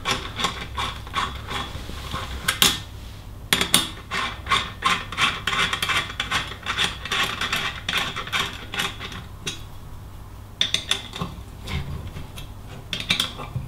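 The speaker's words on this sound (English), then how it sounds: "So we'll get the top cap, screw it in." A bicycle headset top cap being screwed in and tightened: a close run of small metallic clicks, taps and scraping rubs from the tool and parts, irregular and quiet, with no voices.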